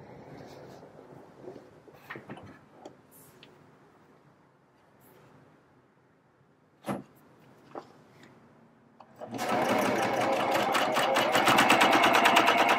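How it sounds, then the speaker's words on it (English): An Elna eXtend Covermax coverstitch-only serger, first a few quiet clicks and handling taps, then the machine starts up and runs loudly at full speed with a fast, even mechanical chatter for the last few seconds. "Now let's do a little bit of sewing on this machine."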